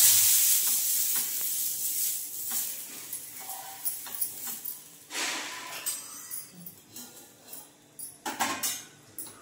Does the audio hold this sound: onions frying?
yes